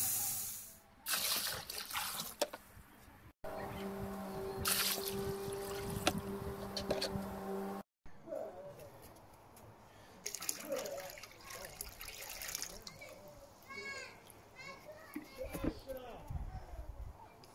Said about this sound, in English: fill it up from a bucket with the cold.